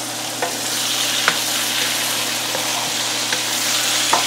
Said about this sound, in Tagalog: dito na natin ilalagay yung ating karne